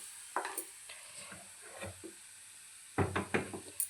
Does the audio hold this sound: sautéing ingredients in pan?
yes